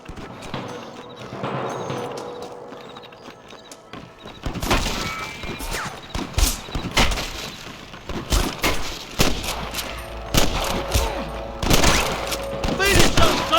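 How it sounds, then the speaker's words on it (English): Gunfire from the Red Dead Redemption video game: after a quieter opening, a rapid exchange of sharp gunshots breaks out, several close and loud, in irregular bursts, with a voice calling out in between. "I can hear more gunshots."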